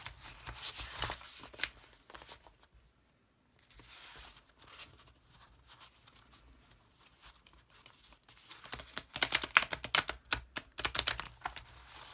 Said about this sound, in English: I am just going to shuffle up my cards